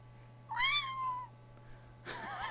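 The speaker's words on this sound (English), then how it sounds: "My kitties are just yowling." Pet cats yowl indoors, with one drawn-out rising and falling meow followed by the start of a second yowl, moderately close over a steady electrical hum, no talking.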